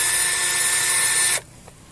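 A power sanding pad fitted with 800-grit sandpaper works an 18-year-old car headlight, giving a steady, loud whirring grind for about a second and a half before it cuts off abruptly into near silence.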